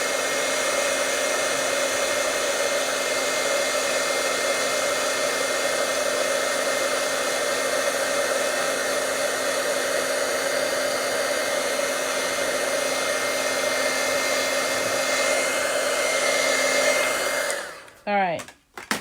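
A heat embossing tool blows hot air over a handmade Christmas card, a steady, close whooshing hiss held for most of the time before it cuts off near the end.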